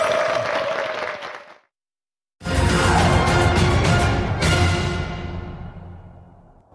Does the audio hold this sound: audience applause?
yes